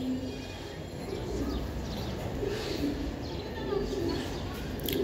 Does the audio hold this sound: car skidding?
no